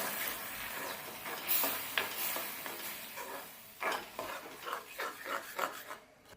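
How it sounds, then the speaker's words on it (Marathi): Soaked garden cress seeds being stirred and scraped in a hot pan, repeated rasping strokes with a light sizzle, growing more rhythmic toward the end. "भिजवलेली हळीव आहे ना ती त्यामध्ये टाकूया आणि छान परतून घेऊया"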